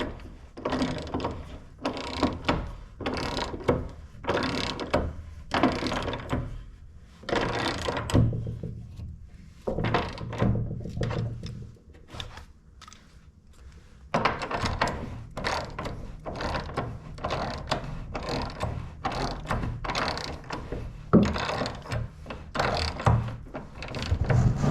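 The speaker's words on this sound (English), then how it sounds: "Let's put a snap-on socket on a Craftsman ratchet" A Craftsman ratchet fitted with a Snap-on socket tightens bolts while mounting a bench vise, producing rhythmic close clicking strokes in repeated bursts with brief pauses between them.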